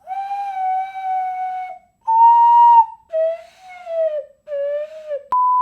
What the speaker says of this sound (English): that's if your finger placement isn't on the ocarina properly